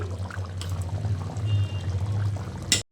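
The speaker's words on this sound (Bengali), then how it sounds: "ঘি দিয়ে দিচ্ছি" Ghee pours briefly into dough in a soft, steady stream, quiet and close, ending with a short clatter.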